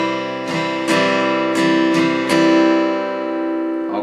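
An acoustic guitar chord is strummed slowly in a down, down, up, up, down, up pattern: five clear strokes close up, then a ringing decay, with no voice.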